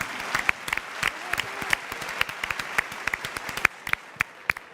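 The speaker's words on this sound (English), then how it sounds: "Round of applause, guys, because we have a Champions League debut." Scattered, uneven hand claps sound nearby for a Champions League debut at a Barcelona versus Young Boys match, sharp individual claps over a low background hum.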